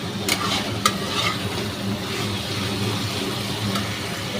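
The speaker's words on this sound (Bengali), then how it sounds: "ভালো করে কষিয়ে নিই।" Cauliflower and small, thinly cut potato pieces being stir-fried in a pan, with a steady close sizzle and scraping stirs that run throughout without talk.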